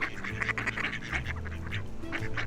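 Ducks quacking and honking loudly on a beach near Inverness, Scotland, with repeated harsh calls overlapping in an irregular, busy chorus close by.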